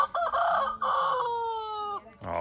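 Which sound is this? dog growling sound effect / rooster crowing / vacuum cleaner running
rooster crowing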